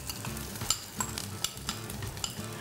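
Tomato puree, about half a cup, cooks over a full flame in a pan while a utensil stirs it, giving a steady sizzle with soft scraping strokes at a regular rhythm, close and moderately quiet.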